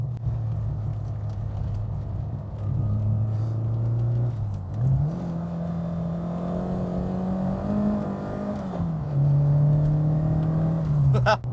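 A Fiat Strada 130 TC Abarth engine pulls steadily through a curve in third gear, a loud, close in-cabin drone that holds, rises in pitch, eases and climbs again.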